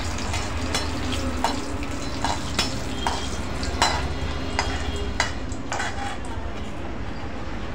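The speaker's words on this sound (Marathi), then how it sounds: "हलके भाजायचे आहे, खूप हे नाही करायचं, एकदम सुगंध येईपर्यंत भाजायचं आहे" Coriander and fennel seeds roasting lightly in a pan with a little oil for spicy chicken curry make a continuous close sizzle, punctuated by regular spatula scrapes and metallic clinks.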